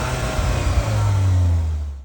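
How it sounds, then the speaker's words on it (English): A 2025 Skoda Octavia RS revs its engine through a standard sport exhaust, a loud, close rising snarl that swells and holds, then cuts off abruptly, with no talking. "A sport exhaust is standard, and here's a sound check."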